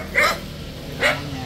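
Fierce dogs at a rural home in Vietnam let out two sharp barks, spaced about a second apart. They sound moderately close, with a faint background hum between them.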